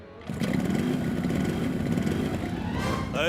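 A cartoon motorbike engine drones steadily and loudly for a few seconds after a brief start, with a slight rise at the end, as in a Motu Patlu animated chase.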